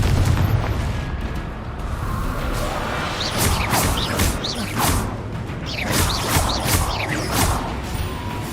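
Fiery Confringo spell blasts in the Hogwarts Legacy video game, a string of loud booming bursts and whooshes repeating every second or so over a dense, rumbling battle din, with no talk.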